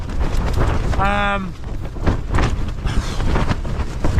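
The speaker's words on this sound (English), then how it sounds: "It really is gusting strong now." Loud, buffeting wind roars and rumbles against the microphone in repeated gusts while camping in the woods, with a brief tonal whine partway through.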